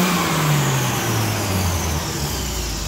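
Car engine with a newly tuned AC Dodd HIF44 carburetor revs steadily, pitch sliding down as it settles into a loud, close, continuous drone without talk.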